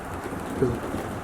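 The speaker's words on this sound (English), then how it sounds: "This is why I hate the rain." Heavy rain pours in a dense, steady hiss, with a low thunder rumble swelling briefly beneath the downpour.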